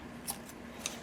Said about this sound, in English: Just get my old scissors here